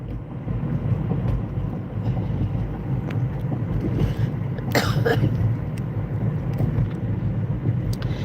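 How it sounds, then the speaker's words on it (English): A single short cough, close by, cuts through a constant low rumbling background. "I got this funky little cough too"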